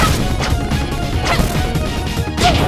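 Hits landing on a purple sand crawler enemy in the retro-style platformer Freedom Planet: a dense run of loud, crunchy smash and whack impacts at a steady rapid rhythm over busy game music, with a brighter burst near the end.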